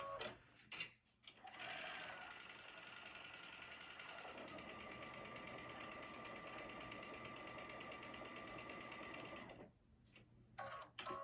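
A sewing machine stitches down the side of a quilt block in one continuous whirring run of about eight seconds, close and steady, with brief handling noises before and after.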